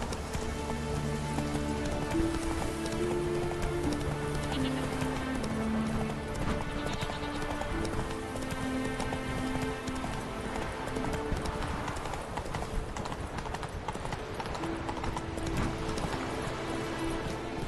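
Roach the horse gallops in The Witcher 3, hooves clip-clopping in a steady rhythm over steady rain in the game's music-backed world, continuous and fairly close throughout.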